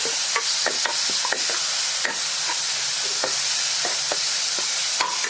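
Hand-mashed tomatoes sauté in a hot pan for mango rasam, a constant close sizzle broken by repeated light scrapes of a stirring spoon.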